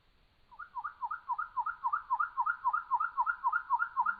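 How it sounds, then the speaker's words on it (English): A female chipping sparrow's song slowed to one-third speed: a clear, steady run of alternating higher and lower whistled notes repeating rhythmically, with nothing else audible. "if I lower this to 1/3 the speed, now I think you're hearing what a female chipping sparrow hears"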